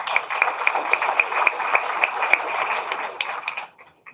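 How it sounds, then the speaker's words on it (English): Applause for the beautification committee at a homeowners' association annual meeting, a small room's moderate scattered clapping that runs for a few seconds and then trails off. "Let's give the beautification committee an applause for a job well done."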